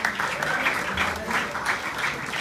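A crowd including children claps continuously in a lively, rhythmic wave of applause at a junior roball championship award ceremony, fairly loud and close.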